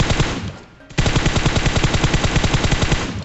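Automatic gunfire in a mobile battle royale game, with rapid repeated shots in a short burst, a brief pause, then a longer sustained volley, loud and close.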